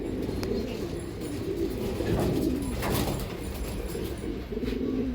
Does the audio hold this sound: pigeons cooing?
yes